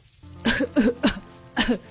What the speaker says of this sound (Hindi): धुआं उसकी आंखों और गले में चुभता है और वो खांसने लगती है